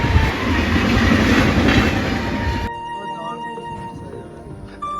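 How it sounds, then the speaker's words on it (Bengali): A train runs loud and close along a railway line, its wheels rumbling and clattering. The roar drops off partway through, leaving a quieter rolling sound with faint squealing tones. "তো ট্রেনটা চলে যাক আর আমরা যাই স্টেশনে চলো"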